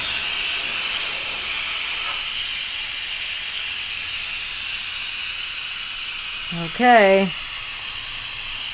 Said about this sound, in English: Now I'm going to release the steam, and you're going to hear the psh in a second.